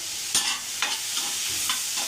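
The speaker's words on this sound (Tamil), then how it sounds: "இதையும் போட்டு நல்லா வதக்கிக்கலாம்" Cashews sautéed in a pan while preparing butter chicken masala, with a few distinct stirring scrapes and light sizzling against steady frying hiss, close and alone.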